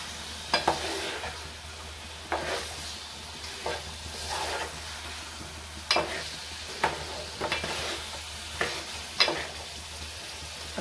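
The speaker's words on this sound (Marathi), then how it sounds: "ह्यामध्ये आता मी आपण बोंबील कापून घेतले आहेत ते घालून घेते आणि ते अलगद असे फिरवून घेते" Cut Bombay duck (bombil) pieces sizzle steadily in a pan, with a gentle stir every second or so producing soft scraping bursts over the constant frying hiss; nobody speaks.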